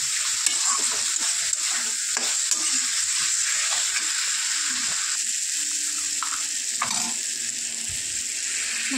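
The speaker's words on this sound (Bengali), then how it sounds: "ভালো করে নাড়িয়ে নিচ্ছি, কষিয়ে নিচ্ছি।" Potatoes being stirred and sautéed in a pan, a constant loud sizzle with repeated scraping and knocking of the spoon against the pan over several seconds.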